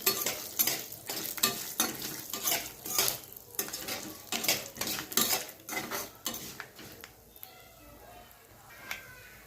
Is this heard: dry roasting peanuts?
yes